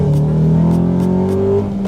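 A Honda Accord CL9 fitted with a Type R gearset pulls hard in first gear, its engine note loud, close and steadily climbing in pitch before easing off at the end.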